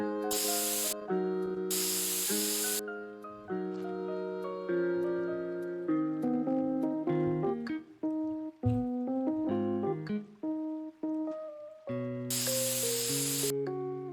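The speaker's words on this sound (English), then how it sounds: "You just spray it." Concrete being sprayed on in The Sims 3 building mode, heard as bursts of loud broadband hissing spray, two early and one later, over steady background game music.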